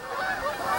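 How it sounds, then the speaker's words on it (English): Flying geese honk in a brief overlapping chorus of nasal calls, several birds at once, moderately loud against a quiet outdoor background. "The geese are heading north."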